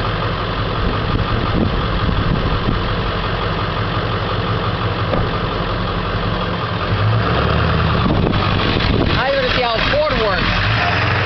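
A 2000 Ford F350 XLT Powerstroke turbo diesel engine idles steadily with a continuous, loud low rumble throughout, while voices talk over it near the end.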